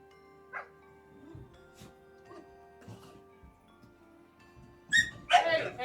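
Two playful puppies in Paper Mario: The Thousand-Year Door yip, whimper and bark in short bursts, quiet at first and then louder near the end, with a few light game tones underneath.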